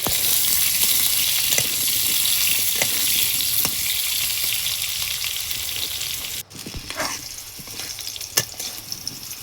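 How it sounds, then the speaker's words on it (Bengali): Potato pieces fry in oil in a pan, giving a steady, bright sizzle throughout, with occasional stirring clinks and scrapes, especially in the final few seconds. "একই তেলের ভিতরে আলু দিয়ে ভেজে নেব।"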